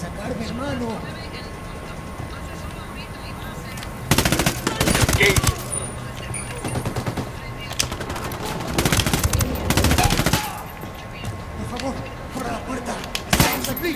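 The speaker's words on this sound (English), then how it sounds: "I got a target carrying submachine guns." Rapid bursts of submachine gun fire in the tactical shooter game Ghost Recon Wildlands, several sharp volleys over a steady background of in-game sound and voices.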